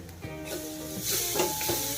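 Onion frying with ginger, garlic and turmeric in a pan gives a close, steady sizzle that swells midway, with a few light stirring scrapes over it.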